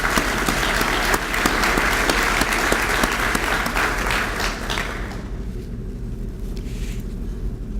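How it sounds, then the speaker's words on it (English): Dinner audience applauding at the Federal Bar Association's 35th annual dinner, a loud, dense wash of clapping that thins and fades over the last few seconds, leaving low room hum. "Another round of applause for Chief Judge Gerald Rosen."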